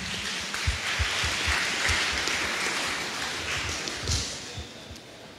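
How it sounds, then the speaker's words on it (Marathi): An audience at an indoor quiz session claps steadily, a dense, moderately loud patter of applause filling the whole stretch with no voices over it. "टाळ्या वाजल्या पाहिजे सर्वांसाठी."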